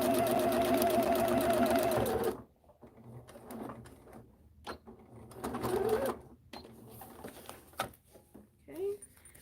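A sewing machine stitches fabric with a close, steady mechanical whir for about two seconds and then stops. Quieter handling clicks and a speaking voice follow.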